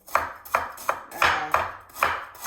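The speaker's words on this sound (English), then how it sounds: "So let's chop up these vegetables." Vegetables and ginger chopped with a knife for a pork stir fry, six sharp, evenly spaced knife strikes on a cutting board, close and clear with no talking.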